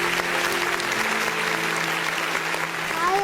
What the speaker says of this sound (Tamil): நல்ல ஒரு பலத்த கைத்தட்டல் கொடுத்துடலாம் for these two little kids.